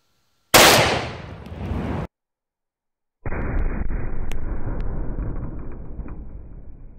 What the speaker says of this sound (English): now let's shoot the Tannerite with the AK, and we should get a nice boom